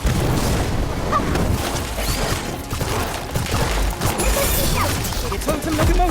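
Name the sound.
Incendio fire spell in Harry Potter Magic Awakened video game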